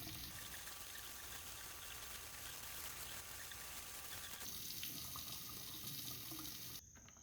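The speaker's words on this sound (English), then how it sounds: "Once you dig it up, give it a good wash." A freshly dug dandelion taproot is rinsed under a running tap, giving a steady, faint splashing stream of water into a sink that continues throughout with small shifts in tone as the root moves under the flow.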